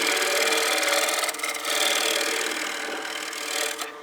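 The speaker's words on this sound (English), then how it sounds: "Go back to my bowl gouge and just true up the foot." A bowl gouge shaves the foot of a wooden bowl on the lathe, giving a loud, continuous rasping cut that rises and eases slightly as the tool moves, with no talking.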